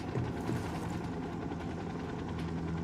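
A video game helicopter in Ghost Recon Wildlands: its rotor chops steadily at a low pitch under a dense engine rumble, continuous and fairly loud throughout.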